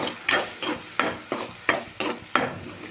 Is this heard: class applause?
no